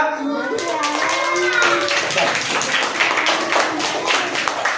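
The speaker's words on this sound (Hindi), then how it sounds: "ताली बजा।" Children clap their hands in a classroom during a Hindi reading lesson, a quick patter of claps mixed with a voice and an adult talking over it.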